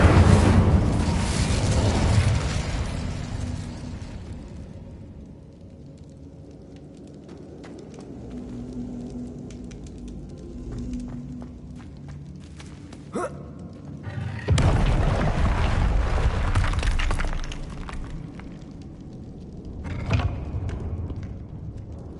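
A fire spell blasts in a Harry Potter video game, with loud booming bursts at the start and again midway, separated by quieter rumbling ambience and scattered crackles.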